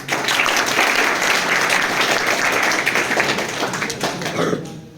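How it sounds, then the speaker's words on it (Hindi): An audience bursts into steady, dense clapping for a student selected for the Indian Air Force, with the applause sustained before tapering off at the end. "इसके लिए तालियां बजाइए।"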